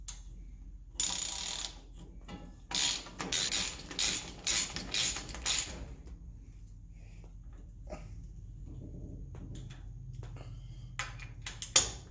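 The rear wheel hub of an IMCA Modified race car, with its nut fully tightened on newly installed bearings, is spun by hand. It gives bursts of close, rapid ratcheting clicks and whirring, then quieter ticking and faint mechanical rattles.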